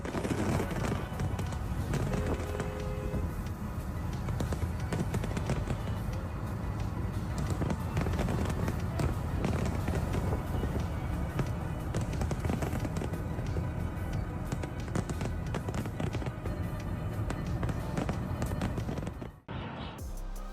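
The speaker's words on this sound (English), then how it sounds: "the fireworks burst into 100 shining lights." Fireworks bursting across a night sky make a dense, continuous barrage of loud crackling and booming for about twenty seconds, cutting off abruptly near the end.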